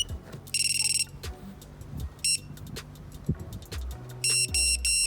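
An FPV drone's lost-model buzzer arms after its battery is plugged in, letting out several loud, shrill electronic beep bursts, some short and some longer, with gaps between them and low mechanical noise underneath.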